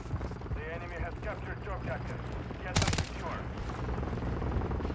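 A close burst of rapid fire from a WSP Swarm SMG in Call of Duty MW3, lasting about a quarter second and rising over steady game noise, with a player talking throughout.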